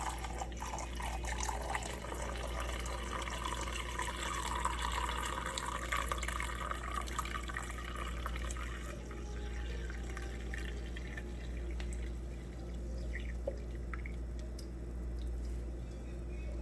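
Fresh slow-dripped coffee poured into a mug over sugar, an 18-ounce fill, giving a close, continuous liquid stream that gurgles and thins toward the end, over a low steady hum.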